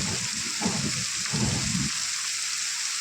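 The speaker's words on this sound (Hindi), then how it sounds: "बहुत तेज बारिश जो है लग चुकी है ये" Steady, dense rain hiss fills the clip, with a few brief low rumbles early on; heavy downpour in a jungle heard close by from inside a cave, no voices.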